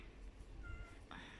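Cats sitting on a yard fence give a short meow, faint and fairly close against a low background, with soft voices nearby.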